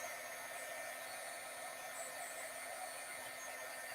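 A hair dryer blowing steadily on a stamped card during a paper-crafting session, a constant whooshing hum with a faint whine, unbroken for the whole stretch.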